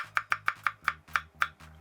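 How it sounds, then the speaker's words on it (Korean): An onion, halved, being sliced sideways with a kitchen knife on a cutting board: eight crisp, evenly spaced chops in a steady rhythm, close and clear, with no talking. "양파는 이렇게 반으로 나누고요. 그 다음에 이렇게 이제 옆으로 썰어줍니다."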